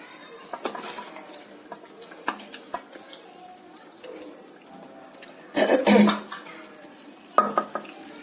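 Bombay halwa being scraped from a pan into a serving bowl, with clinks of a utensil against metal, stirring scrapes and a few louder clattering bursts, close and moderately loud.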